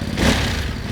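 A 2023 Ducati Monster motorcycle engine catches with a loud, rough starter-and-engine roar at close range, sustained and dense throughout the brief moment.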